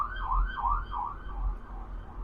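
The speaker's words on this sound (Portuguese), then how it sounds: "Deixa eu passar a sirene." An emergency vehicle siren wails in a steady rising-and-falling cycle, loud and close, with no voices over it.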